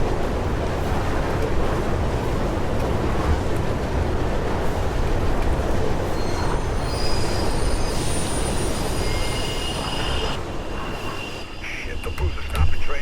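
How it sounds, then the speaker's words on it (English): A train rumbles through a tunnel in the video game Mirror's Edge, a dense roaring rush with high metallic wheel squeals rising toward the end, loud and close. "There's a train coming behind you."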